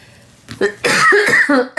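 A few harsh, close coughs in quick succession, loud and abrupt, with brief pauses between bursts.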